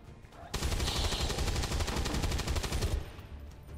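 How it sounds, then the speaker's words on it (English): Video game gunfire in XCOM 2, a rapid loud burst of automatic shots lasting a few seconds, then cutting off to quiet game ambience. "We're gonna shoot him."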